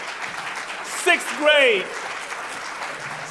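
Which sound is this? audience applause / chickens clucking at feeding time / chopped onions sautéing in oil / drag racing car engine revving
audience applause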